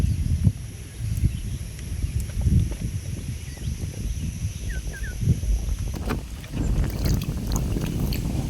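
Wind blowing over a wetland during fishing, with a constant low, gusty rumble buffeting the microphone and faint scattered splashes and clicks in the background.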